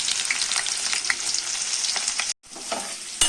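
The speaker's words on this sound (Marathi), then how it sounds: "तेल गरम झालेलं आहे, कांदा टाकूया आणि खडे मसाले टाकलेले आहे एकत्र।" Chopped onion and whole spices fry in hot oil with a bright, dense sizzle and popping crackles, broken by a brief gap before the hiss resumes.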